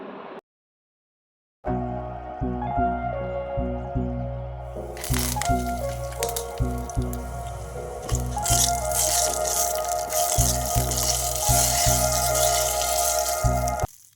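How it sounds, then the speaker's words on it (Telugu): Urad dal, mustard seeds and cumin fry in hot oil for a tempering, followed by curry leaves and dried red chillies, a loud steady sizzle with sharp popping that swells after a brief silence at the start. "తాలింపులో మనం మినప్పప్పు ఆవాలు జీలకర్ర వేసుకోవాలి అవి లైట్గా ఫ్రై అయ్యాక కరివేపాకు ఎండుమిరపకాయలు వేసుకోవాలి"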